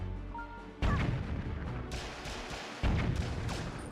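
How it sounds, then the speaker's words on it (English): Cannons blow up in heavy, booming crashes in The Legend of Zelda: The Wind Waker, hit by thrown boomerangs. Two loud bursts come with rumbling debris between them. "nice boomerang throws, getting most of the cannons here."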